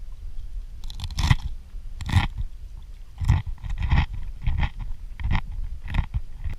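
Close, loud crunchy chewing of fresh mangrove snapper ceviche with cilantro and onions, eaten outdoors on a kayak, with wet bites coming in bursts about every second.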